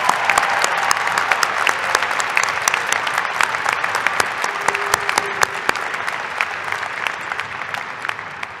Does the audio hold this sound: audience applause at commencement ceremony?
yes